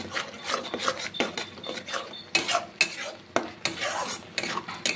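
A spoon stirs fried nut paste and green chili in a pan, scraping in irregular strokes against the metal over a soft sizzle, close and fairly loud, with no talking.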